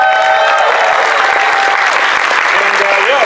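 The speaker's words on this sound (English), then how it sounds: "Give them a round of applause." Loud, dense applause from a large crowd at a furry convention's closing ceremony, continuous and close throughout with a voice faintly audible over it.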